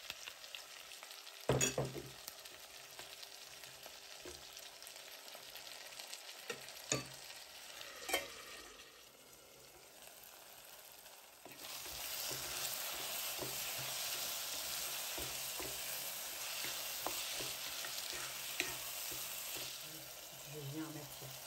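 Chopped tomato going into a pan of frying okra sauce for gombo, then a steady sizzle with stirring and scraping sounds, loud and continuous after a few sharp clatters of utensils.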